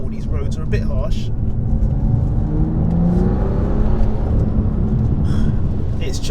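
BMW F87 M2 with a smooth turbocharged engine and DCT gearbox, driving over harsh, rough roads: a steady low engine drone and road rumble fill the cabin, with a person talking over it.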